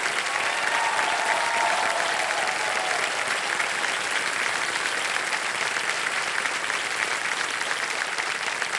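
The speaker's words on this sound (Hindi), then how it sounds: "तालियां बज जाएं इनके लिए।" Studio audience on the quiz show KBC applauds in a dense, sustained wash of clapping that holds steady and loud throughout, with no voices over it.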